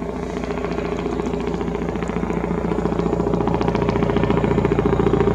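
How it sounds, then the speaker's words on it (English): Police helicopter flying overhead at dusk, a steady rapid rotor chop that grows slightly louder over a few seconds, with no talk. "It's a police helicopter."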